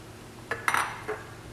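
A spoon stirs a date pickle mixture in a copper pot, a few close metallic clinks and scrapes in quick succession, short and without speech.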